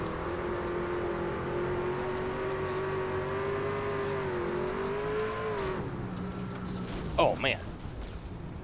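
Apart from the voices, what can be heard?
race truck on dirt track, loud impact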